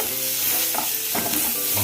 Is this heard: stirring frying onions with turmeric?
yes